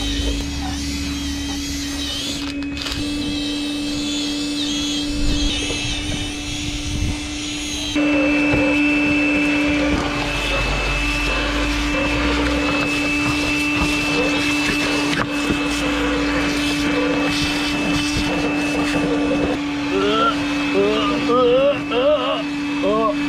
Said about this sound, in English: vacuum the chairs